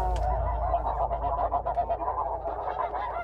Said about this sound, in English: Snow geese begin their migration across the skies of Iowa